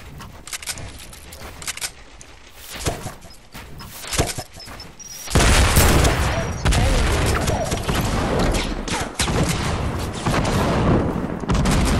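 Video-game gunfire in rapid sharp cracks, scattered bursts at first and then a loud, dense stretch of sustained shooting and blasts, with voices heard amid the shots.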